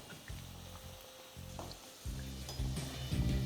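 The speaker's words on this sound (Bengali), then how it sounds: "আলুটাকে কিন্তু আপনারা এখানে একদম লাল লাল করেই ভেজে নেবেন" Potatoes frying in oil for raw banana kofta, an ongoing crackling sizzle with stirring scrapes and clatter, close by and growing louder toward the end.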